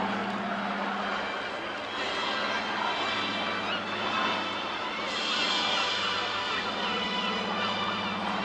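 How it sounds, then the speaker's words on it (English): A blue Supermarine Spitfire PR Mk XIX with a Rolls-Royce Griffon engine passes at an airshow, a steady droning engine roar that swells and fades slightly, heard at a distance with faint crowd noise beneath. "Tipping the left wing down, we see the underbelly of this wonderful blue Spitfire"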